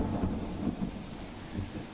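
Torrential monsoon rain pours steadily with low rolling thunder rumbling underneath, a dense, continuous downpour in Santalpur, Patan, with no voices.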